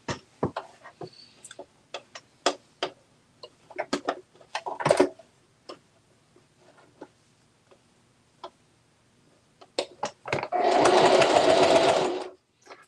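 A sewing machine stitches fabric for baby bibs: scattered clicks and short bursts, then a steady loud run of stitching lasting about two seconds near the end.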